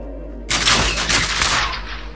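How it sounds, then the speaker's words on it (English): Gunfire in the video game Fortnite, a dense burst of rapid shots starting abruptly and rattling loudly for over a second before tapering off. "Being shot at, where else?"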